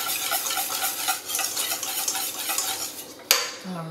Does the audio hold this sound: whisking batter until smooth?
yes